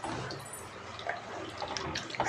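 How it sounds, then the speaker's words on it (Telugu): Water and coconut milk pour into a pot of rice for a cashew mushroom pulao, giving a steady, continuous splashing stream close by with no talking. "1 లీటర్ నీళ్ళు పోసుకున్నాను, 1/2 లీటర్ ఏమో నేను కొబ్బరి పాలు పోసుకున్నాను అనమాట."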